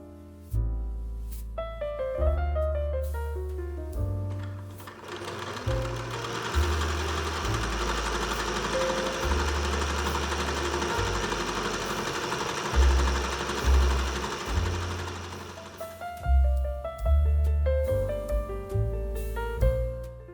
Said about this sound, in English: I then did a simple stitch with a 1/2 inch seam allowance all the way around.